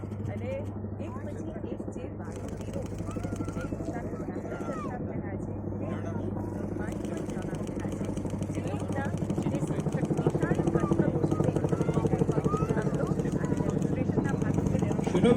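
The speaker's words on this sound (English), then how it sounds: "Chinook helicopter युद्ध के मैदान में हमारी तोपों का लगातार स्थान बदलने में मदद करता है" A Chinook helicopter's steady rotor drone with a low thrumming hum at an Indian Air Force firepower display, growing slightly louder over time, with distant background noise mixed in.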